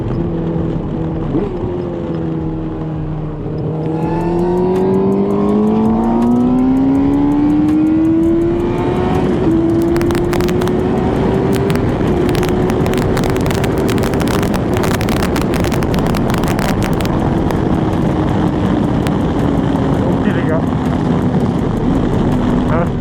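A Kawasaki ZX-6R sport motorcycle with its stock exhaust rises from a low idle into a long, loud, steady high-pitched engine whine as it accelerates on the road, with heavy wind buffeting the microphone throughout.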